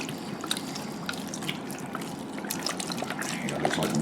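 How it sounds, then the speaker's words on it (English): Beef stock pours from a quart container into a pot over onions, a soft steady trickle and splash, quiet and close, running continuously and growing slightly fuller toward the end. "Put some beef stock in there."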